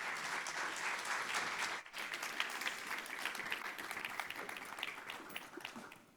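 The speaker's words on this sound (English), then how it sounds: "please join me in giving them a round of applause" An audience at a food-as-medicine summit in Atlanta applauds a panel, a dense, steady wash of clapping that briefly dips near the two-second mark and then carries on at moderate volume.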